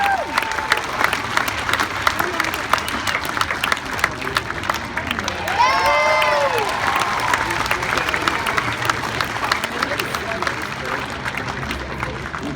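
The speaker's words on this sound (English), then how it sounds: "Let's give him a bit of a clap, ladies and gentlemen" A crowd applauds a competitor from Canada at a 275mm handicap tree felling contest in Sydney, steady outdoor clapping and murmur throughout while an announcer's voice comes through over the top.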